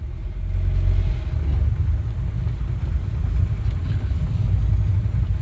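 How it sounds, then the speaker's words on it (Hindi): Steady low rumble of vehicles passing along a national highway beside a residential colony in Ghaziabad, a continuous broadband roar of engines and tyres at moderate distance with no talk. "आप देख रहे हैं इस वक्त कि किस तरीके से यहाँ पर ट्रैफिक चल रहा है"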